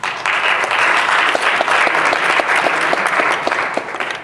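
An audience applauds as speaker Jonathan Fassberg is welcomed to the stage, a steady, full burst of clapping from many hands throughout, fading slightly at the end.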